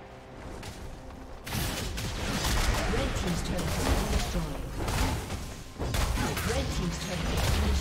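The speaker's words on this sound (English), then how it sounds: "Red team's turret has been destroyed." A League of Legends turret collapses during a top-lane match, with heavy crashing, smashing impacts and dense rumbling effects surging loudly in bursts over busy game sound, with a voice speaking in the mix.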